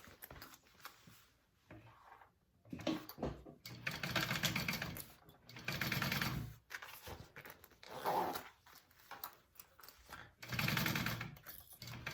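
A sewing machine basting the lining onto a bucket bag runs in several close bursts of rapid stitching, each separated by short pauses, with no voices.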